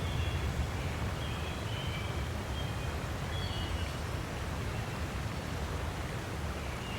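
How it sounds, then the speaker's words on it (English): A waterfall pours into a pool, a constant deep roar with a broad, even hiss of water that never lets up, with no voices. "The constant, deep roar of the falling water,"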